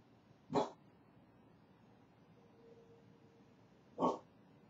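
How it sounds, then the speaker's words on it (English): Two sharp, single dog barks ring out some distance away, about three and a half seconds apart, against a quiet hiss with a faint tone in between. "Are you making the dogs bark?"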